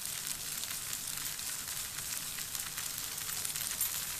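Chicken frying in a pan with noodle spice mix, salt and chaat masala for garlic noodles, giving a steady, even sizzle and hiss throughout with no voices.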